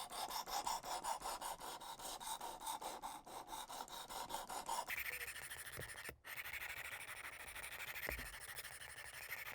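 A knife blade is rasped back and forth in rapid, steady strokes across a grit stone on a WorkSharp Precision Adjust sharpener, a continuous close scratching with a short pause partway through.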